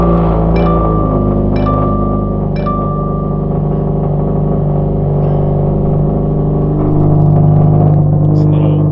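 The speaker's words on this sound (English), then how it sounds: "It's a little loud for cold starts" A 2017 Subaru WRX STI engine idles loudly and steadily on a cold start, with a low rumble and a few brief higher tones, then swells slightly near the end.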